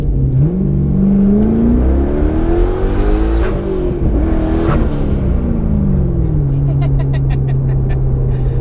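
Twin-turbo Corvette engine running on about 5 psi wastegate boost, revving up and down in two strong sweeps over a steady idle, loud and close, with a whistling turbo and flutter as it settles back to idle.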